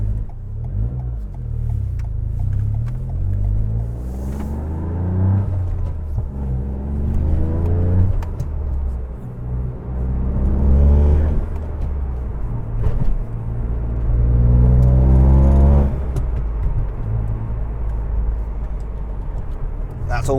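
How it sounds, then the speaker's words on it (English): Toyota GR Yaris with a Coolerworx short shifter installed, its engine rising and falling in pitch as it accelerates through several gears, heard from inside the cabin with someone talking over it. "So let's go for a quick drive and see how it goes through the gears."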